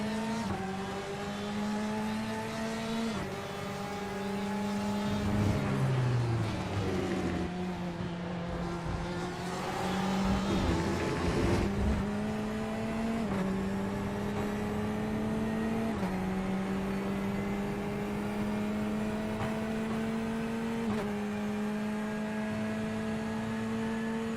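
Race cars battling in a three-car fight, heard onboard with driver Hayden Fowler: a loud, sustained engine drone climbs and drops through gear changes, with a brief dip as the car brakes mid-run.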